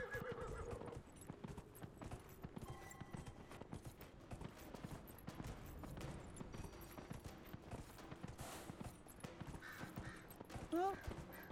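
Horse galloping in the video game Dragon Age Inquisition, with rhythmic clip-clop hoofbeats and a whinny near the end, running along under someone talking.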